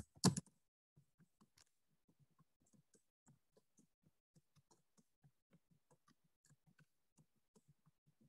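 Typing on a computer keyboard, with one loud click at the start followed by faint, soft, scattered keystrokes at an uneven pace in a quiet room.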